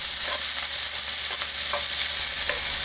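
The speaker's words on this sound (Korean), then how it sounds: "프라이팬에 식용유를 2스푼 정도 넉넉하게 두르고 익는데 오래 걸리는 양파와 당근을 먼저" Onions and carrots stir-frying in a frying pan with a generous two spoons of cooking oil, a steady close sizzle with occasional scraping stirs.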